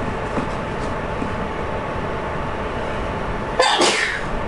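A single sharp sneeze bursts out near the end of a steady rumbling background during a Gran Turismo 7 lobby racing session, close and loud against the continuous noise.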